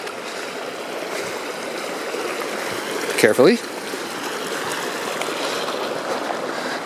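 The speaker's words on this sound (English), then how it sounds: "Gotta cross this little creek." A small mountain creek in the Desolation Wilderness backcountry flows and babbles in a steady, close rush throughout, with a brief spoken word over the water midway.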